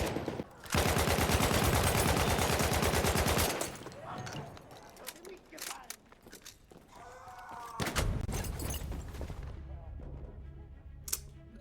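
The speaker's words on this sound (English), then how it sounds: "Dude took me out with a sniper" Gunfire from a Battlefield 1 match, including sniper rifle fire: a loud, sustained rapid burst at the start, then scattered sharp shots and a second heavy burst later, with someone talking in between.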